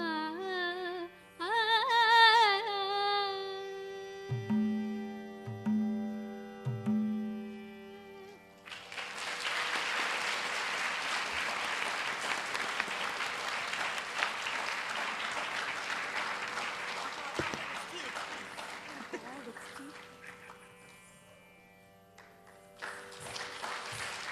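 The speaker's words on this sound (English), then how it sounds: "have another round of applause for Suhani" After sung music with a voice and instrument, an audience bursts into long sustained applause for a Bharatanatyam dancer at her debut recital, steady clapping for over ten seconds before tapering off.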